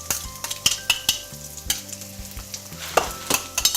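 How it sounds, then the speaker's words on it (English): Garlic browns in prawn stock in a pan for fried rice, with a loud close sizzle and repeated quick stirring scrapes and taps over a steady frying hiss. "I'm going to brown my garlic, and I've added in my prawn stock."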